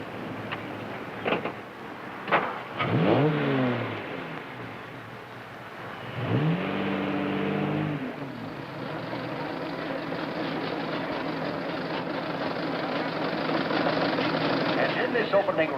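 Antique cars at the start of an opening race rev and idle, with a few sharp engine bursts early, then a steady mechanical drone; a voice speaks over it.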